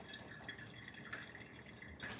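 Leftover liquid is poured out of a bowl in a home kitchen during cornbread dressing prep, a faint, steady trickle and drip lasting a couple of seconds with no talking.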